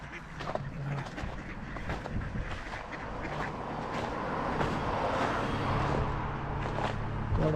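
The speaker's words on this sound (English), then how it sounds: "There are also a lot of ducks there." Mallard ducks quack repeatedly on roadside water, a busy, fairly close chorus of calls over steady outdoor background noise that grows slightly louder toward the end.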